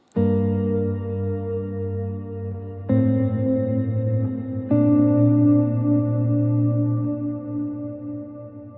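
Sustained, heavily effected guitar chords ring out in three swells through a Meris Mercury X reverb pedal on its Deep Blue preset, each washing into a long, shimmering reverb tail that slowly fades.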